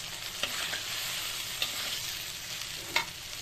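Chickpea and pea ghugni frying in a pan, a steady close sizzle with a few sharp scrapes as it is stirred, no talking.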